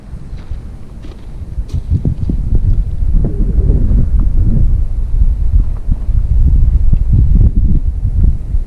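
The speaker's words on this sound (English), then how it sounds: "Huge fucking storm." Low, rolling thunder from a huge storm near the Narrows of Manitoba, booming continuously beneath steady wind buffeting the microphone during a cross-country motorcycle trip.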